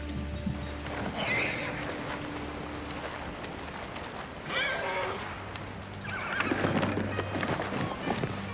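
A horse wearing armor whinnies several times in Ghost of Tsushima, with hooves clip-clopping between the neighs and faint ambient game sound beneath.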